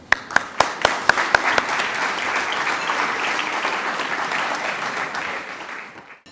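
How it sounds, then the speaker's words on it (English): A few sharp, separate claps at first quickly swell into full, sustained applause from an audience at a regional evening event at the Hellenic Centre, then fade near the end. "Let's give a resounding round of applause to Commissioner Moudzouris"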